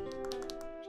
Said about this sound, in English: I love the sound that the nails do when you're like typing on the phone.